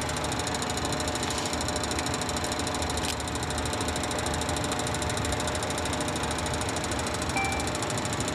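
Bell 429 helicopter turbine engine running during cockpit start-up, a steady dense mechanical drone with a constant whine throughout, loud and close with no talking.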